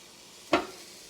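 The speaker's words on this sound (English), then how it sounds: "Ooh, we got a little bit of a sizzle." Frozen pork chop laid onto a hot Ninja Foodi Grill, giving a single short, sharp burst of sizzle that quickly fades into quiet.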